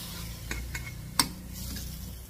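Mustard-seed tempering is stirred into cooking fat in a pan, giving a quiet sizzle under a few light scraping stirs and one sharper clink of the spoon against the metal.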